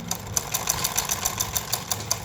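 A sewing machine stitches a samosa-cut pajami with a steady, rapid, rhythmic clatter of needle strokes, close and continuous, with no talking.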